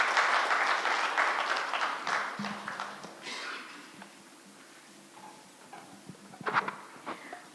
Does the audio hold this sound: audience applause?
yes